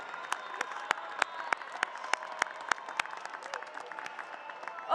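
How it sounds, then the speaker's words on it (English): Applause from a high school graduation audience, with sharp claps in a fairly regular rhythm standing out close by over a faint crowd murmur and a low steady tone. "Let's give them a round of applause."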